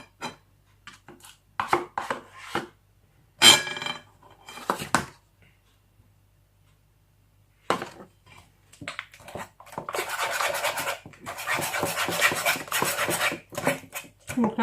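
Margarine is worked into cookie dough in a bowl, producing scraping and rubbing strokes. Short irregular bursts come first, then a long, steady stretch of continuous mixing near the microphone.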